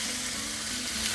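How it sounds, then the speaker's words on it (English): Bacon, still partly frozen, sizzles loudly in a pan. A dense, continuous hiss of frying fat fills the short stretch with no pauses or voices. "Time to get my bacon going."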